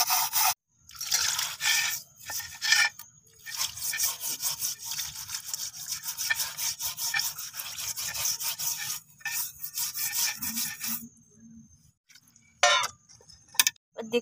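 A rusty boti kitchen blade being washed and scrubbed with water, close wet rubbing and scraping strokes with dripping, broken by brief pauses and ending in scattered quieter scrapes.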